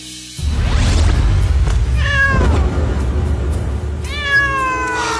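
A real cat meows loudly and close several times, drawn-out wavering cries over a steady low background rumble, with no talk.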